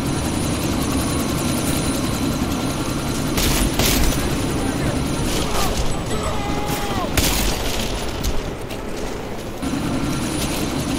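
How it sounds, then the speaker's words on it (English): A helicopter in the video game Deus Ex: Mankind Divided roars as a dense, continuous rotor and engine wash during a sandstorm, with sharp bangs and thumps cutting through and voices speaking under it. "you need to disable that chopper!"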